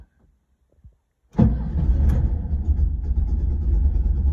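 A 1960 Volkswagen T1 camper engine starts after a few faint clicks, catching abruptly and settling into a loud, close, throbbing idle that runs steadily to the end.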